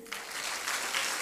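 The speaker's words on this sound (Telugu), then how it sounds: "చప్పట్లు కొట్టుడి" A church congregation keeps up a brief, steady burst of dense clapping, loud and continuous with no pauses.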